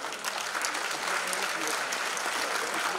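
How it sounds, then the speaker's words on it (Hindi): A crowd at a poetry recital breaks into a short, dense burst of steady clapping, heard close up and continuous for a few seconds. "जोरदार तालियां आनी चाहिए।"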